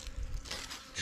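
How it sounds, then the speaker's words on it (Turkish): Honeybees buzzing around a problem hive whose wooden frame they have chewed through, a close, steady insect drone lasting about a second. "Arılar saldırıyor ama sıkıntı olmuyor."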